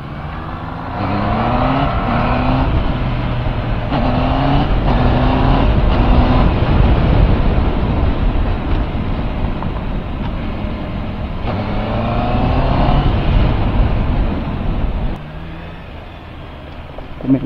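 Honda CBR650RR or CB650R motorcycle engine revving loudly up and down through gear changes, a strong close-up exhaust drone with rising and falling pitch sweeps over about seventeen seconds, easing off near the end.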